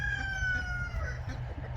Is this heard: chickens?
yes